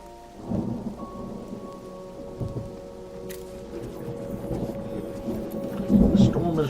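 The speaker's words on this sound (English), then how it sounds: "The storm is raging." Heavy rain pours steadily while thunder rumbles and cracks, a raging storm in the magic-school management game Mind Over Magic, with low game music layered underneath.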